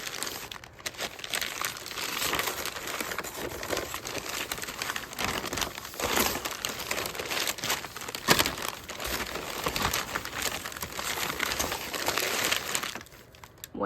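Packing paper crinkles and rustles continuously while a parcel of comics is unpacked, with close, loud, irregular crumpling bursts throughout and a quieter pause at the end.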